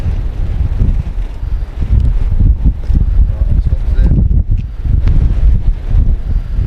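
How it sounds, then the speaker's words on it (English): Strong wind buffets the microphone with a constant low rumble and roar throughout, while a person speaks briefly over it. "Yeah, it's pretty windy."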